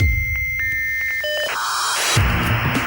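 A dial-up modem connecting: piercing tones and beeps give way to a harsh hissing, screeching handshake, loud and close with no voices.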